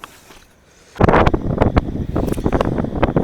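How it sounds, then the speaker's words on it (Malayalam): After a quiet moment, strong hilltop wind near a lake suddenly buffets the microphone, producing loud, rumbling gusts and pops that continue to the end. "നല്ല കാറ്റ് എന്ന് വെച്ചാൽ നല്ല ഒന്നാം നമ്പർ കാറ്റ്."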